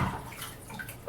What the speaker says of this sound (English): give it a gentle rinse in the water that's already